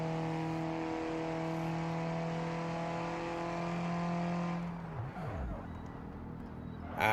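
A race car engine in a racing video game holds a loud, steady high drone for about five seconds, then cuts off with a falling whine and quieter rumbling.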